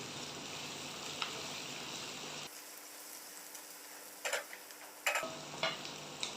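Ginger and garlic paste frying in a pan for a mutton mince and pea ghugni, a steady close sizzle that shifts in tone partway through, with a few soft utensil clicks and stirring scrapes.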